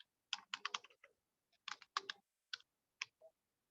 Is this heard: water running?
no